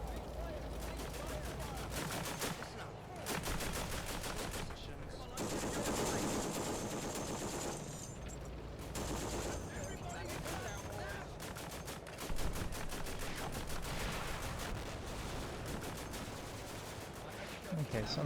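Artillery and rapid gunfire in the WWII war game Combat Mission: Afrika Korps, dense machine-gun bursts and crackling volleys with heavier booms, continuous and loud with brief lulls, no talk.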